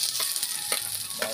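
Garlic sizzling in hot oil in a pan for lechon paksiw, a loud, close hiss with a few quick stirring scrapes.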